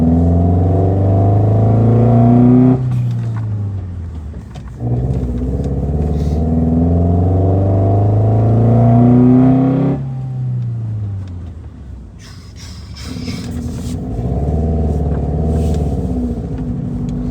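An old rally race car engine revs hard and loud in repeated bursts, dropping briefly between pulls with some mechanical clatter, close by and with no talking.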